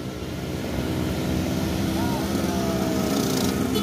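A Fuso tanker truck's engine strains uphill in a loud, steady drone that holds throughout, with a voice talking over it.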